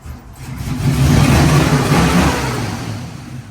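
A carbureted, supercharged LS V8 engine in a Camaro revs up close, climbing to a loud, throaty roar before easing back down, with no voices.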